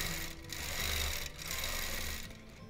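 A longarm quilting machine stitches a small wholecloth quilt fitted with a ruler plate, giving a steady, fairly quiet mechanical hum with a faint rhythmic pulse that swells and dips slightly.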